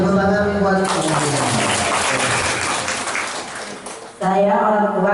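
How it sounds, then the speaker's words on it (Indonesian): Audience applause at a parenting talk for schoolchildren's parents, a burst of clapping lasting about three seconds between stretches of a speaking voice before and after. "Kasih tepuk tangan buat saya"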